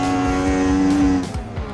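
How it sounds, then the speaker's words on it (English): Race car in the Assetto Corsa sim at the old Österreichring circuit, engine note held steady then dropping as it brakes, with a short tire scrub near the end; loud and close, no talking. "Braking."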